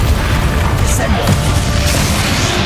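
A Descendo spell slams a target down in Hogwarts Legacy, a loud booming impact amid dense game combat noise, with a voice speaking over the action.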